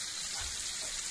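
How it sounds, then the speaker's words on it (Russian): Chicken fillet frying in a pan gives a steady, fairly quiet sizzling hiss that runs unbroken throughout, with no talking. "А пока вы смотрите, как красиво жарятся"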